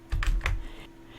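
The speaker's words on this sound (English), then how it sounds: "Hold down the control button and type C to copy." Two quick keystrokes on a computer keyboard, a key combination pressed up close and alone, with a faint steady hum beneath.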